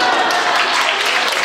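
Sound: audience applause

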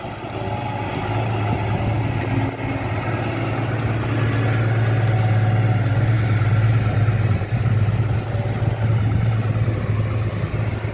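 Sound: six-cylinder dump truck engine running

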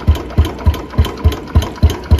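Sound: Royal Enfield Bullet 350 engine running after carburettor tuning

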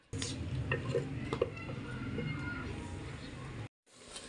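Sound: onions frying in hot oil, being stirred until brown

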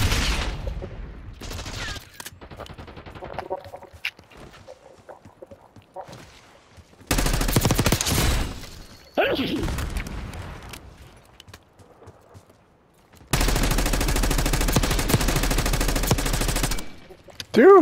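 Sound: gunfire, full magazine emptied, Call of Duty Black Ops 6 video game

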